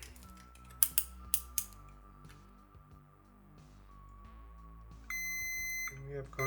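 A multimeter gives a steady continuity beep while its probes test a fuse in a PlayStation controller and memory card port circuit. A few sharp clicks come first, then one clear electronic tone holds near the end, faint over low background hum.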